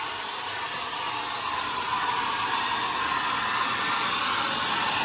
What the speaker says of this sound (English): he does not like this side blow dried